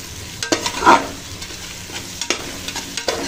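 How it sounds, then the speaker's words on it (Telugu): A spoon stirs potato curry with flat beans in a hot pan, scraping and clattering in uneven strokes over a steady close sizzle of frying, with no voices. "ఒకసారి కలిపేసుకొని ఇప్పుడు ఆలుగడ్డ కూడా దీంట్లో మగ్గే వరకు కొంచెం సేపు మగ్గించుకోవాలి మనము"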